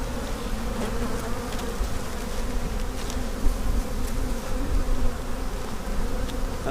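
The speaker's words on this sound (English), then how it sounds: "Y'all gotta get this bee out of my veil." A honey bee trapped inside a beekeeper's veil buzzes steadily and close, a continuous droning hum with small swells in loudness, recorded at a backyard hive inspection.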